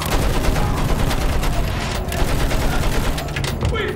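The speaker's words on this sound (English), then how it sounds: "Use that machine gun! Mow them down!" Dense, loud machine gun fire in the World War I shooter game Battlefield 1, continuous rapid bursts with heavy impacts and battle noise filling the whole stretch, with shouted voices mixed in.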